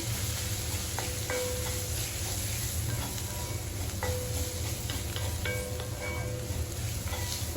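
Chilli, coriander and pepper spice powders stirred into a sizzling mushroom roast in a pan: a constant frying hiss with scattered scraping ticks from the stirring spoon.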